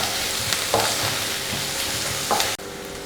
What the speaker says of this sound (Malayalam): ഒരു 2 മിനിറ്റ് ഇങ്ങനെ നന്നായിട്ട് വഴറ്റി കൊടുക്കുക.